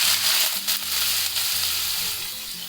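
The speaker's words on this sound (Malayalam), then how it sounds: "അതിലേക്ക് നമുക്ക് 2 ഉള്ളി ചോപ്പ് ചെയ്തത് ഇട്ട് കൊടുക്കാം." Two chopped onions hit hot oil in a pan and sizzle loudly and steadily, a bright continuous frying hiss with a few soft stirring bumps, no voices.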